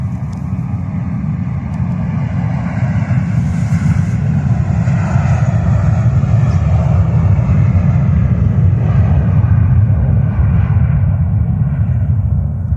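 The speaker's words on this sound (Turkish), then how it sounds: "Şimdi arkadaşlar size uçağın nasıl kalkışını göstereceğim." A loud, steady airplane engine roar with a deep low rumble, building slightly in intensity throughout, as a plane powers up for takeoff nearby.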